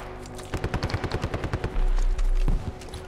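A rapid, evenly spaced burst of about a dozen close automatic gunshots rattles through a video game battle, then gives way to a heavy sustained roar with a few trailing shots.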